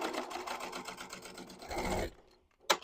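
Sewing machine stitching quilted fabric, a fast steady mechanical whirr of needle strokes for about two seconds, then it stops, with a short click near the end.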